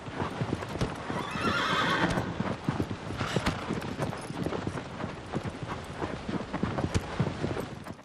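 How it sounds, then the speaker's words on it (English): Horse hooves stamp and clop steadily over a soft, windy ambient bed in a video game, with a brief snort or whinny early on. "the stamping of horse hooves"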